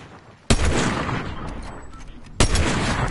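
Two sharp gunshots from a ranked shooter video game, the first near the start and the second later, each followed by a dense rumbling tail and a wash of game noise.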